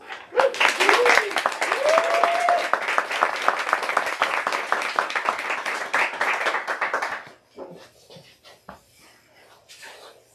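An audience claps and cheers as a poet is welcomed at a reading event, a loud sustained burst of applause for about seven seconds that then thins to scattered claps and faint voices.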